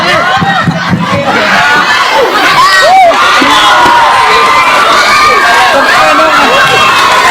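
An audience at an Indonesian Islamic sermon cheers and shouts, with children's voices prominent, in a loud, continuous, close crowd roar that lasts the whole stretch without a pause.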